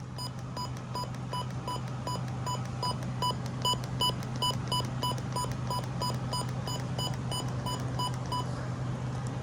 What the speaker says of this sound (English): And now here are your valid button beeps.